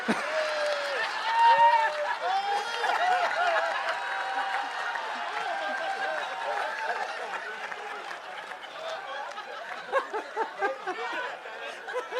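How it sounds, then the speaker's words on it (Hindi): Audience clapping with scattered laughter at a Hindi comedy poetry gathering (hasya kavi sammelan) featuring Vikas Baukhal, a steady crowd patter running under a voice throughout. "ताली बजा दे यार"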